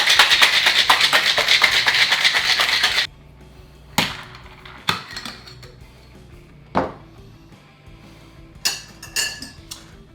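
A cocktail shaker full of ice is shaken hard in a fast rhythmic rattle for about three seconds, then stops, followed by scattered clinks and knocks of glass and utensils.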